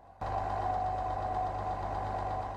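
A tractor engine starts up and then runs steadily during a tractor ride in Iowa, a close, even idling rumble with a faint knock.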